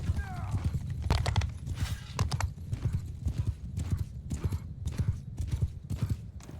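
Hooves pound in a fast, continuous gallop during a Bannerlord battle, a horse's whinny rising briefly near the start, the rhythm staying close and loud over a busy battlefield din.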